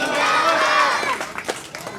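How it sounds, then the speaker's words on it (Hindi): A crowd at a village public rally in Rasulpur cheering and clapping, a loud burst of massed voices and applause that fades into scattered claps near the end. "तालियों से स्वागत, खूब ताड़ियां"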